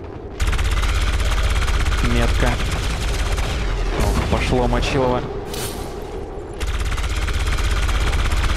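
Gunfire in the video game XCOM 2 rattles in a dense, continuous barrage with bursts and heavy booms, loud throughout, while someone talks over it.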